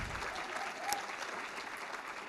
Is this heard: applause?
yes